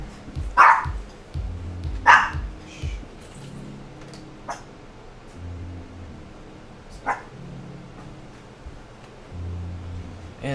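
A pet dog indoors, disturbed by creaking, lets out a few sharp barks followed by quieter low grumbling and a couple of softer yips, fairly near and otherwise alone.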